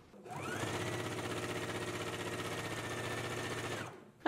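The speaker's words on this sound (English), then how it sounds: "Let's go ahead and sew it now." A sewing machine stitches down one side of a fabric sash, running steadily for about three and a half seconds after a brief start and stopping cleanly near the end, close and alone.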